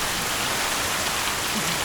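Steady rain falling during a storm, a uniform close hiss of drops on surfaces with no breaks, continuous and moderately loud for the brief moment.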